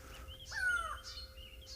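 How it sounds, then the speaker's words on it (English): Wild birds call from thick bush during an early-morning African safari drive, a few faint chirps and one clearer whistled call over a low engine rumble. "even the birds are going crazy here now"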